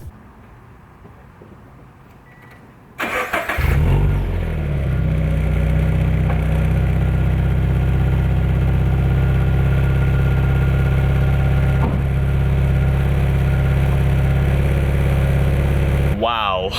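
A car fitted with an Invidia N1 exhaust silencer starts after a few quiet seconds, then settles into a loud, steady, close idle that hums on for the rest of the stretch, ending with a brief rising whine.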